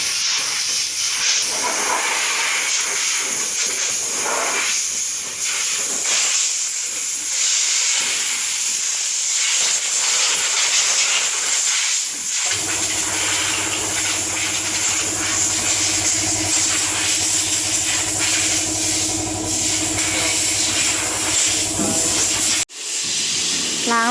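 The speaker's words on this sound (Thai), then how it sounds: "เป่าฝุ่นแผงหม้อน้ำให้นะคะ" A loud, continuous hiss of compressed air blowing dust off a Subaru XV 2.0i radiator, steady for most of the clip, with a low mechanical hum joining partway through.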